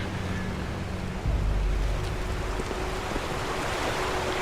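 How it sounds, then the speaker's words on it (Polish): Water flows in a river being crossed in Call of Juarez, a Western video game, as a steady broadband rush with a low rumble swelling partway through, continuous and fairly loud. "Przejście przez rzekę."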